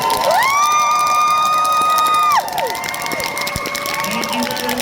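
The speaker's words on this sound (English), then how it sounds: "Big round of applause for these guys." A crowd at a fan convention performance cheers and claps, with a loud, sustained high whoop standing out at first before it breaks off and scattered shouts and applause continue.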